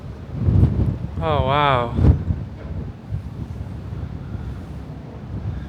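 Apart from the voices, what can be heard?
strong wind blowing on a Venice bell tower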